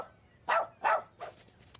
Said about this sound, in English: Because the dog said rough, terrific.